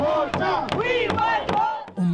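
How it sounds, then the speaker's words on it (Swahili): A large protest crowd in northern Johannesburg bangs empty plastic bottles in a rhythmic series of hollow knocks, mixed with loud, close chanting and shouting voices. "Umati mkubwa wa waandamanaji umebeba mabango huku wakigonga chupa tupu za plastiki"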